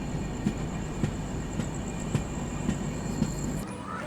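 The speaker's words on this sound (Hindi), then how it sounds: "अपनी ट्रेन का डिपार्चर हो रहा है" A long-distance express train pulls out of Itarsi Junction at dawn, steady wheel clickety-clack on rail joints repeating about every half second under a constant rumble and a thin high whine, ending with a brief squeal.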